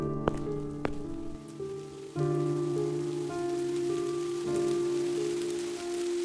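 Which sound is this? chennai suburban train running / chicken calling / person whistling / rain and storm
rain and storm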